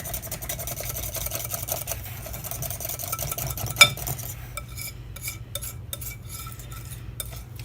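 A hand whisk stirs keto brownie batter in a bowl, giving steady, close scraping and clinking against the sides for several seconds. The strokes then thin out into sparser taps and stirs over a low background hum.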